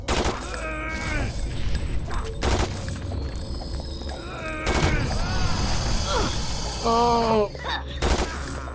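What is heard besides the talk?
machine gun fire in Vampire The Masquerade Redemption video game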